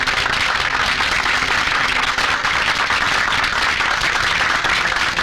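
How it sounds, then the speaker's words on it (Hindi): A crowd claps and cheers in a dense, continuous wash of applause, loud and steady from start to finish with no speech over it. "तालियां।"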